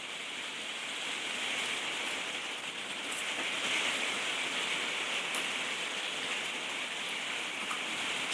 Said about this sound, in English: You might even be able to hear the rain outside.